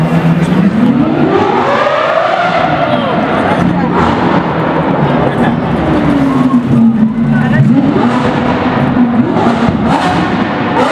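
Lamborghini supercars at a gathering of rare, very loud exotics, one engine revving hard as it passes. The exhaust howl sweeps up and down in pitch over constant loud traffic noise, with a crowd chattering nearby.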